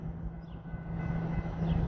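A freight train pulls into a paper mill area, a steady low rumble with a faint tonal hum building slightly louder over the span, no voices.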